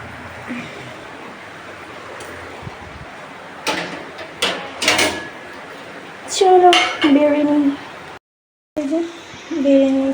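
Plates and dishes handled in a home kitchen while serving lunch, with a few clinks and knocks of crockery and cutlery spread through the scene, mid-distance, alongside background household noise.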